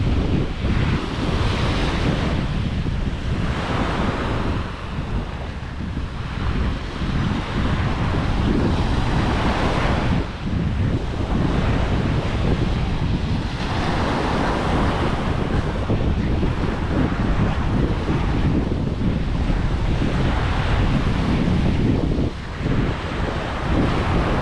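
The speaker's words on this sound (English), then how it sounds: "Why they have big waves here?" Big ocean waves break continuously at Cua Dai Beach near Hoi An, Vietnam, a loud, dense roar of surf with rhythmic surges every few seconds and heavy wind buffeting the microphone, with no voices.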